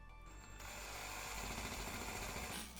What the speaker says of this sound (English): Initially I was going to use my battery hammer drill, and here we go, first time round.